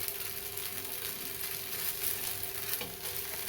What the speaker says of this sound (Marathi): मस्त एकच नंबर आपला उत्तप्पा भाजला आहे